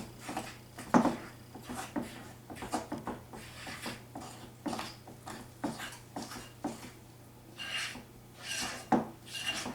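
Homemade pizza dough of flour, yeast, salt and oil being mixed by hand on a countertop, producing uneven rubbing, scraping and soft slapping strokes close up, fairly quiet and irregular, with no talking.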